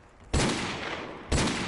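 Two loud, close gunshots in a first-person shooter video game, each a sharp blast about a second apart with a sustained echoing tail, no talk.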